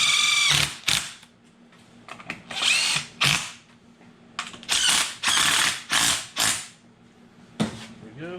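A ratchet runs down bolts on a J series case in a string of short, close, clicking bursts separated by brief pauses, with one final burst near the end.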